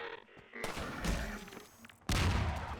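Sniper rifle fire aimed at zombies in Half-Life 2 Episode One. One booming shot lands early, then sustained rumbling noise follows, and a second loud blast hits a couple of seconds later over a low game background.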